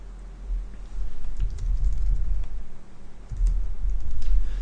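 Code being typed on a computer keyboard while writing a Scala general tree class; clusters of quick, close key clicks come in two bursts, separated by a short pause, with no voices.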